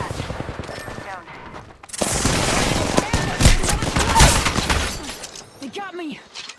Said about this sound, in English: Firing. Getting shot at.